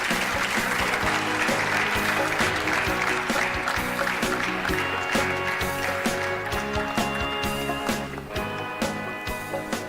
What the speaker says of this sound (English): Can we hear a huge round of applause for all the dignitaries present on stage, please?